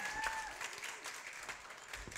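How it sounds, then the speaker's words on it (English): Applause from a conference audience after a marriage panel, a steady wash of clapping lasting about two seconds at moderate distance, fairly soft, with a faint whistle-like tone near the start. "So give them a round of applause"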